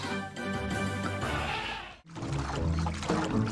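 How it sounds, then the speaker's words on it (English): A water stream pours steadily in the video game Wallace & Gromit in Project Zoo, a full rushing splash mixed with tonal game music that cuts out briefly before resuming. "Now let's see where this water stream goes."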